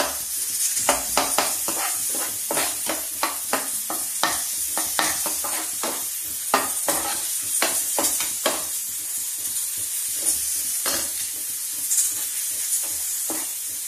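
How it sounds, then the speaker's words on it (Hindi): Tomato masala fries in a kadhai, a constant sizzle broken by repeated sharp scraping and stirring strokes in an irregular rhythm, heard up close with no talking. "टमाटर जब तक ठीक से मैश नहीं हो जाएगा तब तक हम इसको फ्राई करते रहेंगे"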